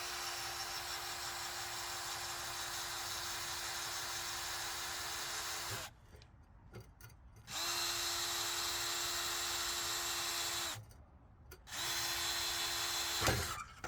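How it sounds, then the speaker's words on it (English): A power drill whines steadily drilling out a rivet on a Triumph GT6 muffler hanger, stops briefly, whirs again, then pauses once more before a final burst and a clunk. "Just drill this rivet out the rest of the way."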